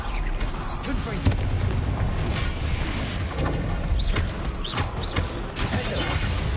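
Explosion spells in the video game Hogwarts Legacy go off amid a dense, loud battle, with repeated booming blasts and crashing impacts piling up continuously over busy game sound.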